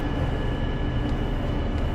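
A BR Class 40 diesel locomotive slowing in Train Sim World, a steady loud rumbling engine and rail drone with a constant high whine, continuous and close throughout.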